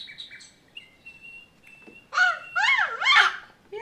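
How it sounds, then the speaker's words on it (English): A bird sings nearby: thin whistled notes at first, then a louder run of rapid, swooping chirps toward the end, with no talk. "Yeah, sing your little bird song."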